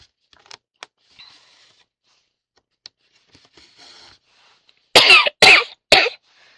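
Three loud, harsh coughs in quick succession close by, following a stretch of faint rustling and small handling noises.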